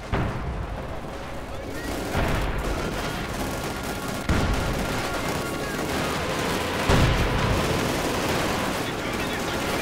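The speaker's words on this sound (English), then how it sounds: "Panther there taking fire, of course not achieving much." Battle gunfire and explosions from the real-time strategy game Company of Heroes 2 in a 2v2 match, a dense continuous barrage with heavier bursts around three points, under a commentator's voice.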